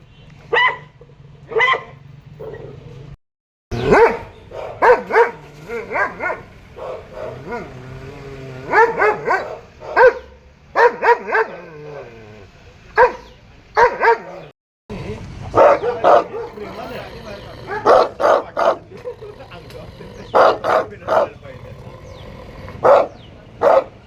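Several dogs bark in repeated bursts, some close and loud, with yips and short pauses between volleys, in a city where the municipal corporation addresses pet and aggressive dog owners.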